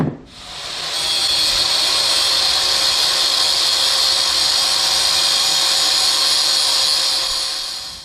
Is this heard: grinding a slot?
yes